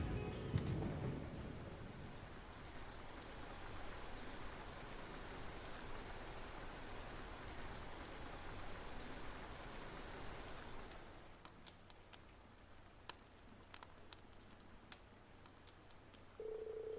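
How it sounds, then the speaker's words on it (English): Steady rain hisses across the first ten seconds of a thunderstorm in the video game Trails of Cold Steel IV, then thins to scattered drips and taps with faint rumbling underneath; a brief tone sounds near the end. "And a thunderstorm."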